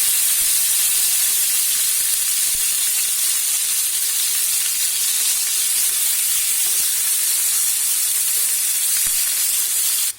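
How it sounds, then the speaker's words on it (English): Mutton pieces sizzle hard on a hot grill pan, a loud, dense hiss of spitting fat that holds steady from start to finish before stopping abruptly. "lower the heat a bit and put in the mutton pieces in the grill pan, spacing it out again"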